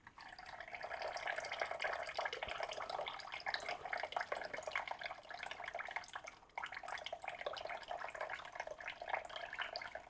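Sparkling wine poured over orange juice to top up a mimosa, a steady fizzing, bubbling pour heard up close for about ten seconds, with a brief dip midway before the liquid resumes.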